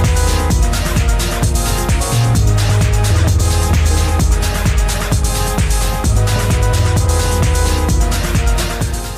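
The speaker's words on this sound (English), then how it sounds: "every time you hear the kick drum hit, it will lower everything else and then it will come back up very quickly" Tech trance track with a steady four-on-the-floor kick where each hit ducks the rest of the mix, which swells back quickly, giving a loud, continuous rhythmic pumping throughout.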